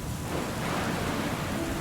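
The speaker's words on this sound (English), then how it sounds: "Paired with the sound of rain on my truck's roof, it was the perfect reading ambience." Steady rain drums on a truck roof in a dense, even wash, with a low rumble of thunder blending into the downpour; no voices.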